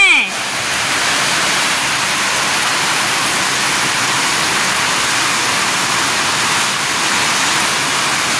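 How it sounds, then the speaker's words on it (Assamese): Steady, dense rush of heavy rain pouring down, loud and continuous with no breaks, like a downpour drumming on surfaces nearby. "ইমান জোৰকে ধাৰাৰ বৰষুণ দি আছে"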